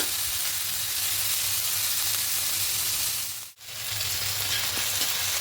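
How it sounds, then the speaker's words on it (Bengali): Shrimp frying lightly in hot oil gives a dense, steady sizzle close by, broken by one brief dip before the sizzling picks straight back up. "এবারে তেলের মধ্যে দিয়ে হালকা করে চিংড়ি মাছগুলোকে ভেজে নেব"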